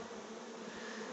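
Bees buzzing steadily while gathering pollen in a Leningrad region apiary in August, a faint, continuous, even drone with no voices over it.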